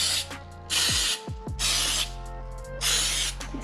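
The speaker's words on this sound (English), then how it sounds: "We're gonna spray our donut dishes." Three short hissing bursts of an aerosol can of flour baking spray onto donut pans, each about half a second, with a mechanical clicking rattle between them.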